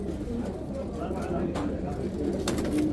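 Homing pigeons cooing at a Baghdad bird market in al-Adhamiya, soft low coos under steady crowd murmur, with someone talking over them throughout.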